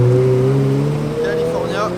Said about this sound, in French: On a le convoi de Ferrari qui part, 488 GTB, 360.